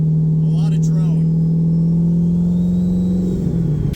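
A Ford Lightning's 3-inch exhaust with Corsa Pro Series mufflers drones loudly and steadily at 2,000 RPM, a constant low hum that shifts near the end, with brief talk early on.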